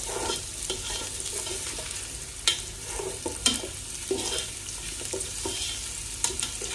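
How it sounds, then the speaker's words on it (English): Onions fry in warm oil in a pot while a spoon stirs them, giving a steady sizzle broken by repeated scraping and clinking strokes, close up and with no talking. "now let's put in the onion, and then we're gonna stir it for it to cook until it's brown"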